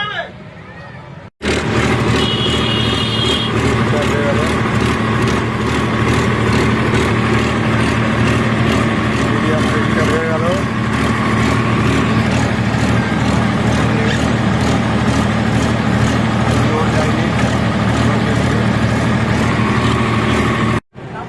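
A diesel generator kicks on abruptly and then runs loud and steady nearby, with a constant droning hum and rattling engine tone until it cuts off at the end.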